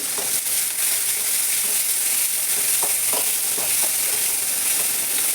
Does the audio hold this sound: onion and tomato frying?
yes